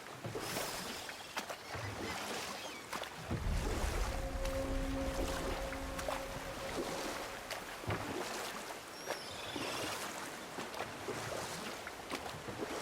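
Boat rowing in God of War, oars splashing steadily through water with a soft wash of waves and wind, punctuated by occasional dips and thumps, no voices.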